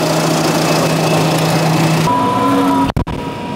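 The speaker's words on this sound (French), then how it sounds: "il patine pas le tracteur, il a pas de mal" A tractor engine drones loud and steady while ploughing a field, a constant mechanical hum with a tonal whine that shifts pitch partway through, then a brief knock or dropout near the end.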